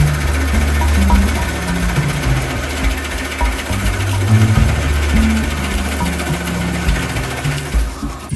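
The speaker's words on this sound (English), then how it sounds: "So here I'm drilling big holes in the front of the leg for a mortise or trench" A drill bores big holes into the front of a wooden leg for a split-top Roubo workbench, producing a loud, continuous grinding drone that wavers in pitch throughout, with no talking.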